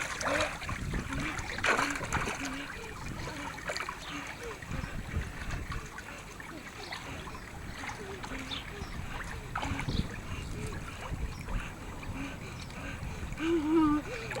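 A young boy splashes in a swimming pool as he learns to swim without armbands, with continuous watery splashing and trickling, and adults talking and cheering nearby.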